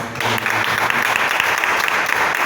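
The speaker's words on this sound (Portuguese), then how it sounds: "Pode dar uma salva de palmas." A church congregation breaks into steady applause, a thick wash of many hands clapping together that holds at a constant level throughout, with no talking over it.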